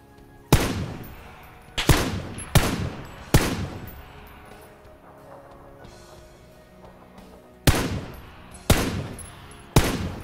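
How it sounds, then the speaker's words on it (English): Gunfire in the video game PUBG, aimed at a tree: about seven loud, sharp shots in irregular bursts, each ringing out briefly, with a quieter gap in the middle. "Just shooting that tree."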